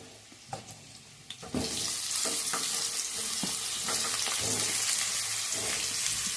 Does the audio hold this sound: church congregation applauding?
no